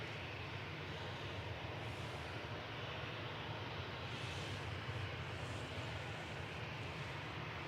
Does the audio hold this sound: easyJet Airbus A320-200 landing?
yes